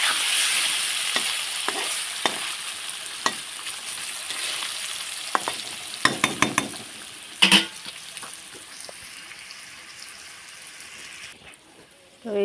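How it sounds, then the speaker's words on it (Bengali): Paneer pieces frying lightly in a pan, a soft steady sizzle under intermittent scraping and clinking stirring strokes, close and moderate in loudness, ending in a brief quiet pause. "পনিরগুলো একটু হালকা করে ভেজে নিব, বেশি লাল করা যাবে না"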